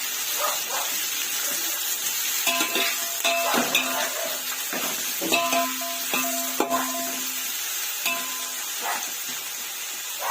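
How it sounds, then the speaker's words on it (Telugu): Sliced onions stirred and fried in hot oil in a pot for a large chicken biryani, with a steady sizzle broken by repeated scraping and clinking of a spoon against the pan. "ఆనియన్స్ వేసి కలుపుకుంటున్నానండి."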